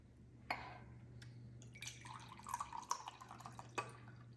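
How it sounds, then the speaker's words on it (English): Orange juice pours into cake batter, faint wet trickling and liquid splashes into a bowl with a few sharp drip-like clicks over a low steady hum. "We also need to put 200 ml of orange juice."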